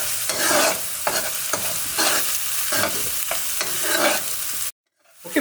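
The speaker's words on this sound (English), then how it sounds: "I'll wait for a few minutes for the ginger and garlic to be cooked" Ginger, garlic and onion frying in a pan for hot chicken rezala, giving a loud, close sizzle with rhythmic scraping strokes of stirring, then a sudden drop to silence near the end.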